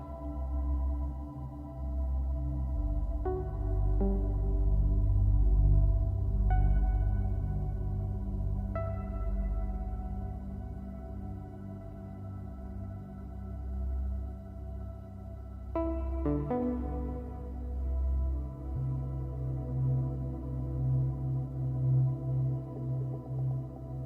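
A slow ambient Eurorack modular synthesizer loop with deep sustained tones and soft plucked notes, washed in long reverb, repeating steadily without any voices.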